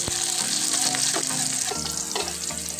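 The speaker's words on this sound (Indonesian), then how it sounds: "Kita tumis bumbunya ini sampai layu." Sliced shallots, garlic, bird's eye chillies and curly red chillies sauté in hot oil with a loud, steady sizzle, punctuated by a few scraping stirs in the pan.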